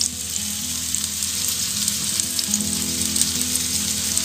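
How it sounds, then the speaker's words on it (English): Poultry pieces browning in hot oil, frying with a steady, loud, continuous sizzle and crackle throughout, no voices. "What I'm doing is I'm browning these in oil to make a trivet"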